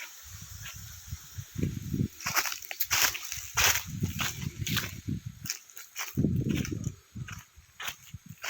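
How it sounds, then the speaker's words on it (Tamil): Water runs into a field irrigation channel on farmland near the Amaravathi river, making an uneven, close sloshing and gurgling rush with surges and brief lulls. "தண்ணி வந்துட்டு இருக்குதுங்க. பாயுது"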